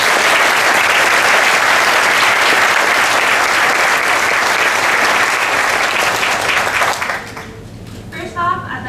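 A large audience at a building-opening ceremony breaks into loud, sustained applause for a speaker, which fades out near the end as a voice begins to speak.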